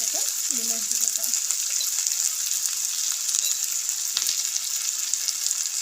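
Turmeric powder sizzling in a frying pan, a steady close hiss of frying with no talk.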